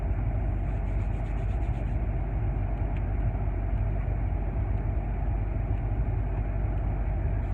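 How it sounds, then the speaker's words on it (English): A bigger truck rolls past on a road, a loud steady low rumble of engine and tires that stays even from start to finish. "Well, there's a bigger truck coming here now"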